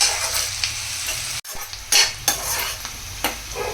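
Onions frying in a pan for an omelette curry, with a steady close sizzle broken by several sharp scrapes and clinks of a utensil stirring against the pan.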